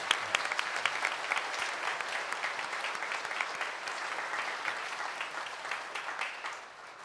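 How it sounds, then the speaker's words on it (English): Congregation at a Mass in a parish church applauding, a dense even round of clapping from many hands that tapers off at the end. "let's applaud you."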